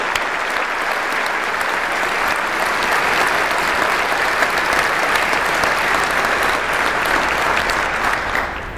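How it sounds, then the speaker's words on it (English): An audience at a community breakfast applauds the members of a school board of education, a loud, sustained, dense wave of clapping filling the room for nearly nine seconds without a break. "Let's give them a round of applause."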